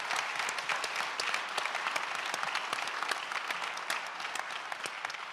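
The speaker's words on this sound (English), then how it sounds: "please a round of applause for this great panel" Audience applause for a conference panel at a summit, a steady dense patter of many clapping hands filling the room without pause, fairly even in loudness throughout.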